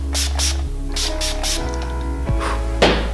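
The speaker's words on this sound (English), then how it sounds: "I'm gonna be spraying my face with the Urban Decay All Nighter Makeup Setting Spray." Urban Decay All Nighter makeup setting spray misted onto a face in several short, close hissing bursts, with a faint background hum.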